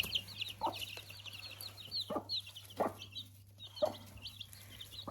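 A mother hen shut in with her six chicks clucks in short, separate bursts, close and clear, while high, thin chick peeps chirp continuously behind her.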